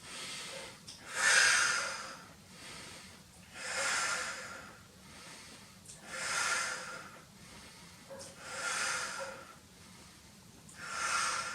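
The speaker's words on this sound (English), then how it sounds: "Breathe in the nose, exhale through the mouth." Breathing during a Pilates exercise, in through the nose and out through the mouth, as a series of audible, close breath cycles repeating every couple of seconds, with no talking.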